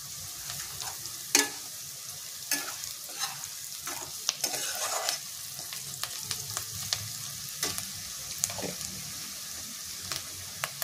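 Chickpea ghugni masala with garam masala frying in a pan, a steady sizzle under repeated scraping strokes of a stirring spoon, with small sharp clicks.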